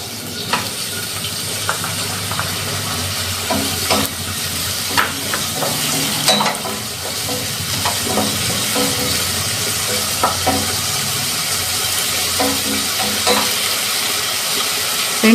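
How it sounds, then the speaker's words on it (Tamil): Onion and tomato sautéing in a pan for kulambu, a steady close sizzle with frequent stirring scrapes and clicks of a utensil against the pan throughout. "தக்காளியும் வதங்கிடுத்து."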